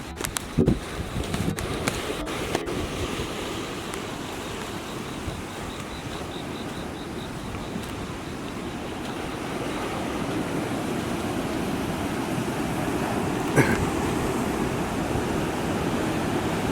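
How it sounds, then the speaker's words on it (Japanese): Heavy surf pounds a rocky shore near a red lighthouse in Mugi, Tokushima, as Typhoon No. 14 approaches in early morning rain, a continuous loud roar of crashing waves and gusting wind with no pauses. "すごい波です。"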